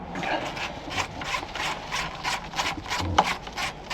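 An Allen key loosens the terminal posts on a LiFePO4 leisure battery, making a quick rhythmic series of faint metallic scraping clicks, close by, with no voices.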